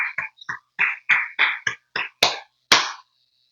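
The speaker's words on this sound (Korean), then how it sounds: "우리 박수로 하나님께 영광 돌리시겠습니다" A church congregation claps together in a series of sharp, roughly rhythmic claps, about ten in a row in a reverberant sanctuary, with short gaps between them.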